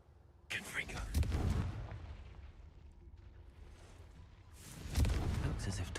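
A Confringo spell blasts in a video game, heard as two loud, explosive bursts a few seconds apart. A quieter rumbling lull sits between them.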